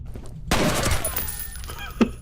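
Pistol gunfire in the video game F.E.A.R.: a sudden loud burst of shots with a ringing, debris-filled tail, followed by one more sharp report a moment later.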